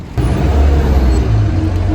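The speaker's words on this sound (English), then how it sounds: "The bus justified all odds and turned up the R11 that I needed." A London R11 bus pulls up at a stop, a loud low diesel engine rumble with road noise close by, steady for about two seconds after a brief quieter start, no talk.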